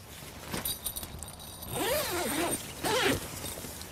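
A zip on the door of an Aqua Atom fishing bivvy is drawn in two long, rasping pulls, close and loud, after a few light clicks and rustles of the fabric.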